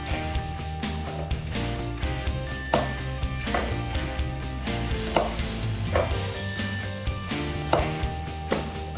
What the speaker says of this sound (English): Now let's chop them in half.